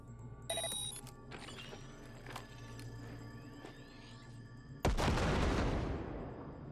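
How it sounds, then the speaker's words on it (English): A grenade blows up in Cyberpunk 2077: one sudden loud blast that fades over a couple of seconds, following quieter game ambience with faint beeps and clicks. "Now, detonate the grenade."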